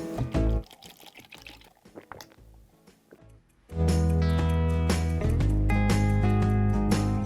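A carbonated soft drink is poured, with a few light knocks and trickles at first, then a loud, steady pour with a ringing, tonal fill that lasts for several seconds.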